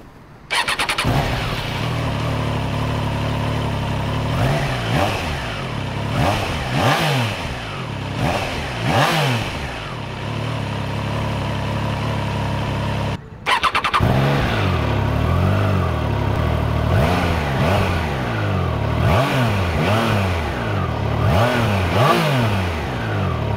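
A Triumph Trident 660 with its 660cc three-cylinder engine revs repeatedly, rising and falling through sharp throttle blips, close and loud, with a brief cut near the middle before the revving resumes.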